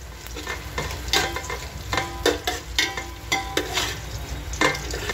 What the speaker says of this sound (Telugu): ఇలా వేసిన తర్వాత మనం అన్నిటిని మరొకసారి శుభ్రంగా కలపాలి.